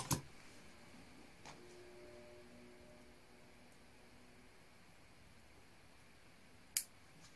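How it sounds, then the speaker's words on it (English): Scissors snipping stray branches off a bonsai false cypress, three sharp isolated clicks spaced across a quiet stretch, close but faint, with no talking. "Just going to cut them off."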